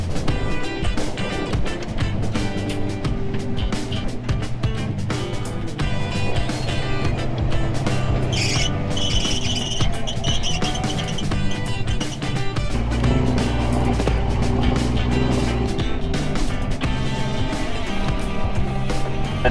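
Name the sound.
rat rod tow truck driving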